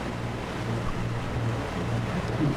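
Ocean waves push a sailing boat along in rough water, a steady low rumbling wash with rhythmic surges and wind noise continuing throughout without speech.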